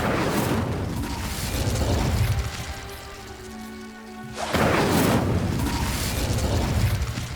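Incendio fire spell cast in Hogwarts Legacy, two loud, roaring, crackling whooshes of flame, each lasting a few seconds, separated by a quieter humming stretch of game ambience.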